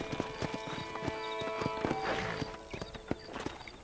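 Hooves clip-clop at a walking pace with a soft snort or whinny partway through, a horse ambling in the video game Red Dead Redemption, fairly quiet and close.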